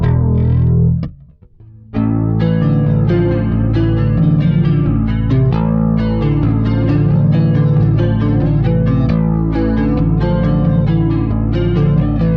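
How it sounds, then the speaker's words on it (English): A clean electric bass on the neck pickup plays flowing arpeggiated chords, steady and close, with a brief pause near the start before the notes continue uninterrupted. "a clean setting, playing like arpeggiated chords"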